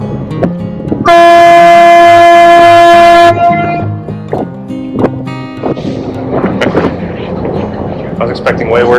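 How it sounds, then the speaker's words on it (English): A loud, deep ship horn blasts once for about two seconds on a whale-watching trip near Seattle, followed by rumbling vehicle noise and indistinct voices. "I got a honk of horn"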